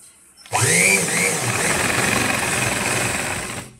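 A sewing machine runs steadily, stitching a boat-neck princess-cut blouse: a loud, continuous mechanical whir that starts abruptly and holds for several seconds with no talking.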